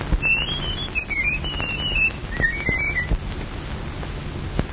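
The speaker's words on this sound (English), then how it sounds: "No two men could ever whistle exactly like that." A man whistles a wavering, clear melodic tune in two phrases with a short pause between them, fairly close over a faint background hiss.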